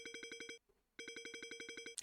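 A phone ringtone trills in rapid repeated electronic pulses, a burst of about six rings, a short pause, then a longer burst of about ten more, clear and close with no talking.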